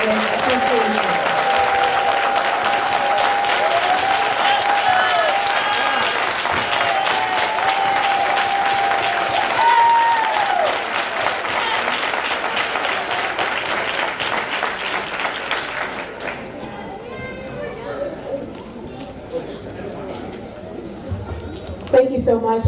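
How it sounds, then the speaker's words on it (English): A room full of people applauds students at a school board meeting, loud sustained clapping with some cheering and chatter, thinning out and fading toward the end as voices take over. "if all of our students could stand so we can all formally applaud you and recognize you and fill up this room with appreciation"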